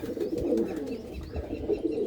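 Low, rolling coos from a flock of Kartarpur pigeons overlap in a steady murmur, close by and moderately loud, with no talking.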